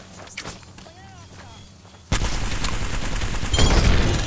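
Gunfire in the video game Apex Legends erupts as a dense, loud burst of rapid shots that continues without a break, preceded by quieter game sounds and a voice talking.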